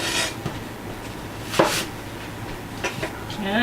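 A knife cutting an apple into thick chunky slices for grilling, a few soft crunchy cuts and board knocks spaced irregularly, close and fairly quiet with no talk.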